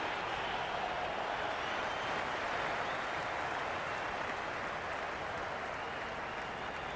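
A stadium crowd in the Cricket 26 video game keeps up a dense, steady roar of applause and cheering, broad and continuous throughout, without breaks or distinct voices.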